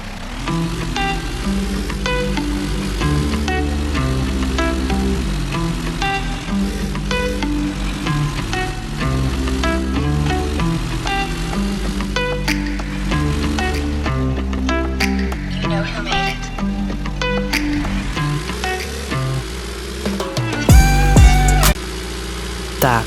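Pickup truck driving in the video game Pickup, a steady engine drone under continuous game music, with a brief louder knock or clatter near the end.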